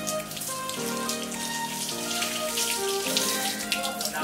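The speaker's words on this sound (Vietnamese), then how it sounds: "Để em vô em xả nước cho nó nhanh." Tap water running into a sink to rinse hair at home, a steady close splashing flow lasting the whole moment with faint tonal sounds behind it.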